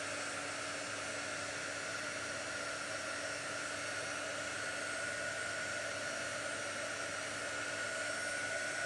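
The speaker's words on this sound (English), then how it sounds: "I used to use a hairdryer, and then I got their heat gun." A handheld heat gun blows a steady, even hiss of hot air while drying a craft project. The sound stays loud and unbroken throughout, with no talking.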